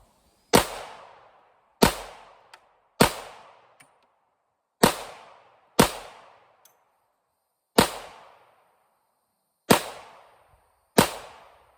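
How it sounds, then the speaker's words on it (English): Smith & Wesson SD9 VE pistol firing Winchester 9mm rounds outdoors: eight sharp, loud gunshots spaced irregularly about one to two seconds apart, each followed by a short decaying echo, with no talking. "All right, 9 rounds out of the Smith & Wesson SD9 VE"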